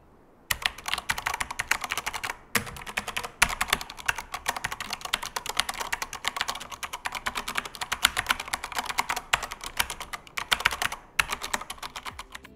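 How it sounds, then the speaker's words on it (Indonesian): Steady, fast typing on a Corsair K95 RGB Platinum XT gaming keyboard with silver switches, dense clicky keystrokes close up with a few brief pauses, no talking. "Korang mesti tanya-tanya macam mana bunyi keyboard silver switch ni?"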